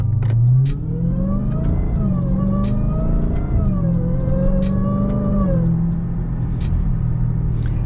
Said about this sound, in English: when you're outside, the supercharger is really loud